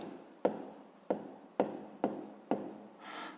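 Pen or pencil writing numbers for a sixth-grade math exercise, five sharp taps on paper, each followed by a short scratching stroke, evenly spaced and close, then a softer rubbing scrape with no speech.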